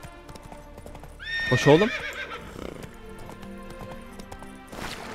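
Roach, a video game horse, whinnies loudly once near the start amid steady hoof clip-clops, then keeps trotting under a man's brief speech.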